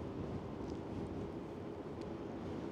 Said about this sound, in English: There's tons of wind coming through here right now.